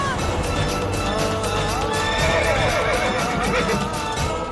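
Horses whinny repeatedly over the hurried clatter of hooves as they are driven at speed along a rough path, loud and close, with voices faintly mixed in.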